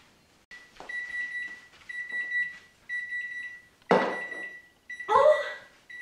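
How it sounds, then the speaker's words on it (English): A kitchen timer goes off with steady, high electronic beeps that repeat through the clip. A voice and other kitchen noises break in loudly over it. "wait for the beeper to go off"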